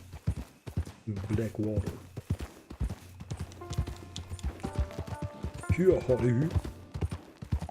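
Horse hooves clip-clop in steady, rhythmic beats in Red Dead Redemption 2, close and prominent, with a horse snorting and whinnying while someone talks over the riding.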